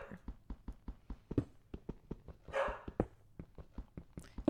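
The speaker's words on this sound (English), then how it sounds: "Listen to that nice baritone bark." Minecraft dog barking in a survival game, a series of short, evenly spaced low barks close by, with a brief noisy burst partway through.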